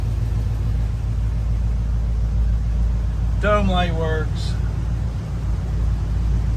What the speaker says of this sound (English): This truck sits here and idles like an absolute sewing machine.